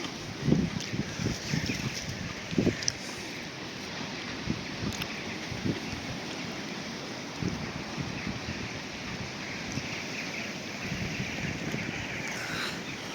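Strong cold wind gusting steadily outdoors on an early winter morning by the water, with light rain falling, a continuous roaring rush with a few louder buffets near the start.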